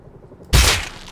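A single L96 sniper rifle shot in the survival game Rust lands as one sharp, loud crack with a booming low thump, then decays quickly into a short rumbling tail.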